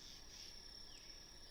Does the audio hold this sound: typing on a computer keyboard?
no